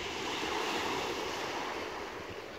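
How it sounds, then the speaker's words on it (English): Sea waves wash in on a sandy beach at West Sands, a soft, continuous surf roar with some wind noise on the microphone and no talking. "Can you hear those waves crashing in?"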